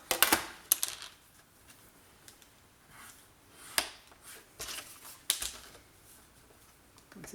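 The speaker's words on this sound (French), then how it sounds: "Je vais faire les lignes de pliure." Paper being scored along fold lines for an album pocket in a crafting setup, heard as several short sharp scraping strokes and taps spaced irregularly, fairly quiet and close, with no talking.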